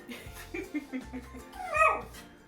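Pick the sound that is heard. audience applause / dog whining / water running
dog whining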